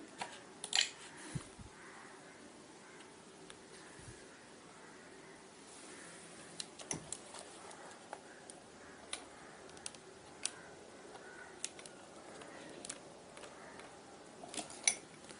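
Someone types a full name on a computer keyboard, producing faint, scattered key clicks in irregular bursts against a quiet room background.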